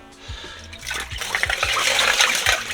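Icy winter water sloshes and splashes close by, building into a steady rushing wash, with a few low thumps underneath.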